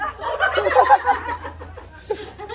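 Ducks quack and chatter in a busy, nasal cluster, fairly close, with a lone squawk near the end.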